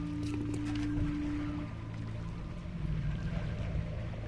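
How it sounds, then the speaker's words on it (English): Water ambience in the XCOM: Enemy Within video game, a continuous pouring and lapping wash that stays steady and fairly loud throughout, under a low mechanical hum. "And the sound of the water."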